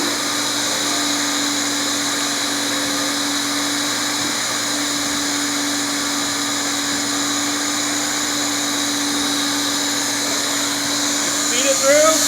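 A hot air banner welding machine runs along a banner edge with a continuous, loud droning whir and a steady tonal hum, unbroken for the whole stretch, with a brief shift in pitch at the very end.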